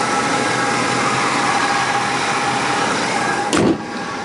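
A 2008 Ford E250 Econoline cargo van with a 4.6 liter V8 runs at a steady, fairly loud drone, with a brief thump near the end.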